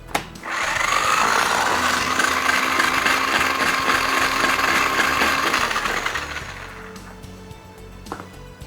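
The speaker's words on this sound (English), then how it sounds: "Just a small bit of garlic into our blender." A blender pulverizing garlic for a Greek cheese dip whirs loudly for several seconds, its motor grinding steadily, then spins down and stops, leaving a few faint clicks.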